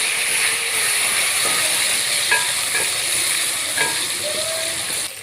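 Tomatoes fry in a pan for kaddu chana dal, with a steady loud sizzle running throughout and a few soft scrapes and taps of a stirring spoon on the pan.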